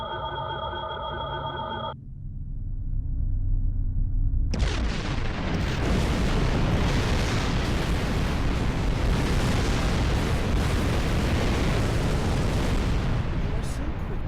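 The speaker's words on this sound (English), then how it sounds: "Detonate the charges." Explosive charges detonate on a planet's surface in a video game: after a brief electronic tone, a massive rumbling blast erupts and roars on in a long, loud, sustained boom.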